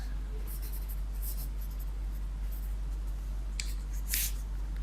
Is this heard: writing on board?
yes